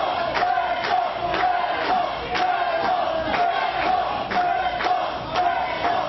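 Wrestling arena crowd at a tag team title match roars continuously and loudly, a dense wall of cheering with rhythmic, chant-like surges roughly every second.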